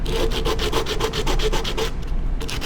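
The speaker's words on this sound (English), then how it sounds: "with a piece of sandpaper, 100 or 80 grit sandpaper, we're going to wrap it around a sanding block" Steady back-and-forth rasping of 80 or 100 grit sandpaper wrapped around a scrap-wood sanding block on a wooden drawer part, quick regular strokes that pause briefly near the end, close and fairly loud.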